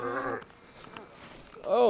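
Two ewe lambs bleat in short, wavering calls, one at the start and another at the end, with a quiet pause between.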